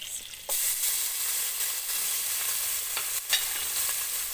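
Red onion hitting hot oil in a pan for a Cajun-style mixed seafood dish, a sudden loud sizzle bursting in after a half-second lull and then holding steady with occasional stirring scrapes, no voices.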